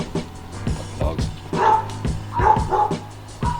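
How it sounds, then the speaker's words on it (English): Dogs bark and yip repeatedly in a garage where a Nissan 350Z quarter panel is being cut, the sharp barks loud and close in quick irregular bursts, with whimpering between them. "Dogs."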